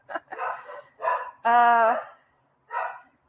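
Dogs bark loudly and close by during an online meeting in a few separate bursts, with one longer, drawn-out bark in the middle and short gaps of silence.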